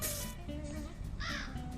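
A crow caws a couple of times in the horror video game Granny, with harsh, close calls over a loud, droning game ambience.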